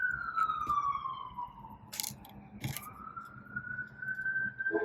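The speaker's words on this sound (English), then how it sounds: "an ambulance is passing by" An ambulance siren wails past, its pitch sliding down and then back up, with a few short clicks and bumps nearby and no talking.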